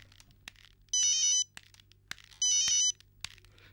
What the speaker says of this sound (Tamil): ரிங் போயிட்டே இருக்கு எடுக்க மாட்டேங்கிறான்